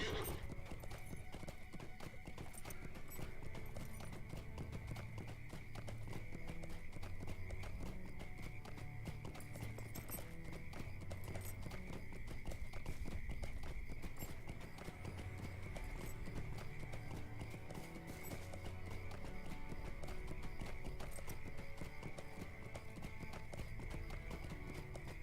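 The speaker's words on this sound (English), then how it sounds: "Horse!" A horse gallops in the video game Lord of the Rings Online, with steady rhythmic hoofbeat clip-clops that run on without a break, mixed with game ambience and a faint sustained tone.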